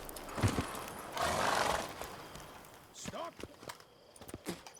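Roach, Geralt's horse in The Witcher 3: Blood and Wine, gives a short whinny amid hoof clops and a burst of wind or rustle, with a voice speaking over parts of it.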